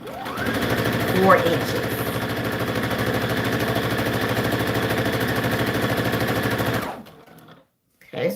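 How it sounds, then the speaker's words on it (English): A sewing machine stitches down overlapping satin fabric ribbon trim for anklets, a steady fast mechanical whir running for about seven seconds before stopping, with a voice talking briefly over it. "I'm just overlapping a little bit and sewing down"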